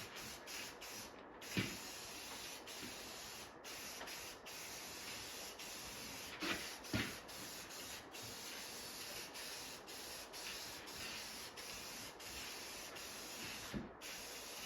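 Aerosol spray paint applied in a light coat to metal brackets during an arcade cabinet restoration, a steady close hiss with a few brief pauses and soft clicks, no talk.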